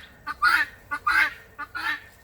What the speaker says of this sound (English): So we got a bunch of birds right here.